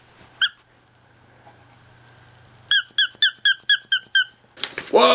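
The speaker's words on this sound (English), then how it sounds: "I'll bet you it squeaks, doesn't it?" A large squeaky toy dog bone gives one quick squeak, then after a pause a fast run of about eight sharp, loud squeaks in steady rhythm, ending in a burst of rustling and handling noise.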